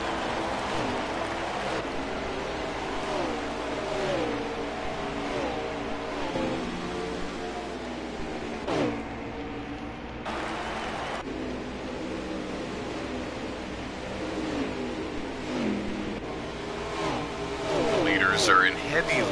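Stock race cars running in heavy lap traffic late in the final stage at ISM Raceway, a continuous engine drone with shifting pitch and passing cars, a commentator talking over it throughout.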